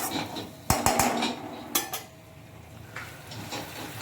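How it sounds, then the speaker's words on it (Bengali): A utensil works ginger-cumin paste around a hot pan, making a few sharp metallic clanks and scrapes early on, then quieter stirring scuffs. "এটার উপরে আমি আদা জিরে পেস্টটা দিয়ে দিচ্ছি। ভালো করে মশলাটা আমি কষিয়ে নেব।"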